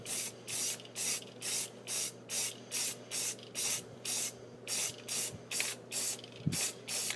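Rapid bursts of spray primer coat a Hot Wheels die-cast car, about fifteen short even hisses in steady rhythm, close and fairly loud, with no talking.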